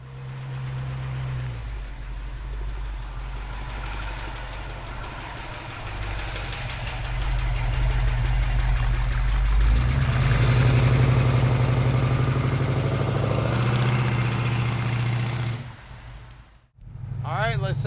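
A 1968 Ford Mustang S-Code V8 idles with a steady low rumble, close by, rising somewhat louder midway and cutting off near the end.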